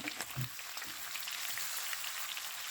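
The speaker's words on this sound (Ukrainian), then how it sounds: "Я смажу шкварки на такому середньому вогні" Pork cracklings sizzle and crackle steadily in an uncovered pan over medium heat, a constant bright frying hiss with small pops, close and fairly quiet.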